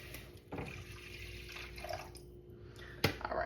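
Purified water being poured in a home kitchen while making split pea soup with sweet potatoes: a steady, close splashing flow that runs for a few seconds, with a sharper splash near the end.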